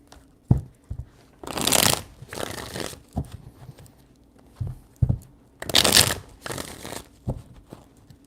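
Tarot cards are shuffled in three quick bursts of crisp riffling and flapping, each lasting about a second and separated by soft taps and quiet pauses.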